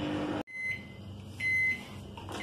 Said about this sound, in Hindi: अब हम इसे 2 मिनट के लिए माइक्रोवेव में रख देंगे।